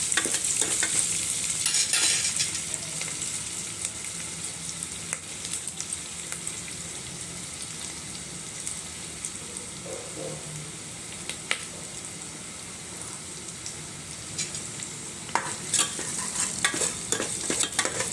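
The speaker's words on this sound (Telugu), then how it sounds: "ఇప్పుడు మళ్ళీ కలిపానండి. ఇది ఫ్రై అయిన తర్వాత మనం క్యాబేజ్ వేసుకోవాలండి." Ingredients for cabbage dal stirred and fried in a hot pan, a steady sizzle with scraping stirs of a spoon against the pan and scattered crackles, close and fairly loud, no talking.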